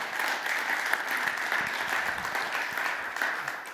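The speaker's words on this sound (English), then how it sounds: "Give them a round of applause." Audience applause at a lunchtime guest-speaker event, steady and sustained clapping from a crowd filling the whole stretch without talk over it.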